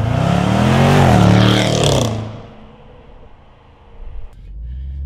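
A Startech Range Rover SVR surges at full throttle, a loud rising engine roar that builds for two seconds, then cuts off sharply and fades to a low hum, with a brief mechanical flutter later.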